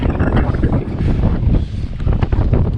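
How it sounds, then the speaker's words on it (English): Strong tailwind on a winter backcountry hike roars loudly and continuously across the microphone, buffeting it in heavy gusts. "Really strong wind here."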